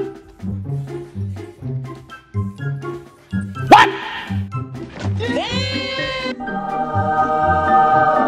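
A dog barks in a rapid series of short barks, then gives a higher drawn-out whine or howl, fairly close with some background noise.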